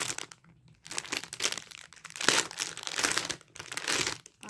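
Crinkling of a small plastic bag, close and fairly loud, in irregular bursts of crackly rustling with brief pauses between handlings.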